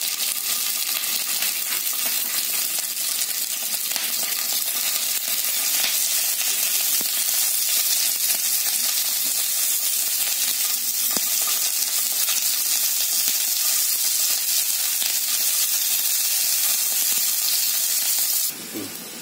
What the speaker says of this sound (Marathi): आता हे ना भेंडी मी फ्राय करून घेते